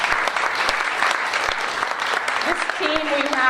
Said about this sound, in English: please stand up and let's give everyone a round of applause or a board round